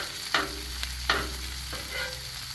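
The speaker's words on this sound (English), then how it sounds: "Gotta make sure I get these onions flipped so they can cook on the other side as well, the back side." Onions sautéing on a Blackstone griddle hiss steadily, with a few sharp scraping clacks of a spatula flipping them, close and moderately loud with no talking.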